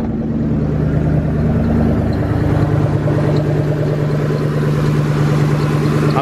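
A 4.6 engine idles roughly with a possible misfire, a close, loud, steady uneven chug with a droning undertone, heard alone without talk.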